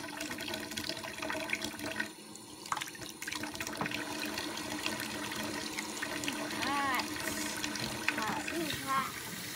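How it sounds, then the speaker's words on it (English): A kitchen tap runs warm water for washing dishes, making a continuous splashing flow, with brief voices sounding over it near the end. "my assistant mommy is going to be helping me turn on warm water."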